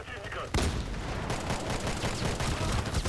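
Pistol gunfire from a P226 in a video game, a burst of loud, close shots kicking in after a quiet half-second opening and continuing densely to the end, with a voice speaking faintly underneath.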